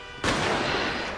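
A single sharp gunshot in the police game GTA LSPDFR, a sudden loud crack followed by a long rumbling echo that decays slowly, with no talk over it.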